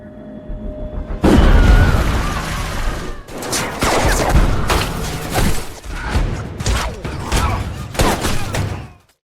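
Gunfire erupts in a film fight scene where guards shoot at a tank, loud bursts of rapid shots and booming impacts repeating in clusters over several seconds.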